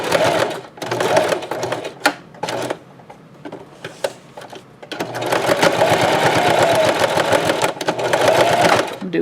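A sewing machine stitches crisscross lines across a Dollar Tree potholder, starting in short, choppy bursts of rapid clatter, then settling into a long, steady, loud run of stitching close by.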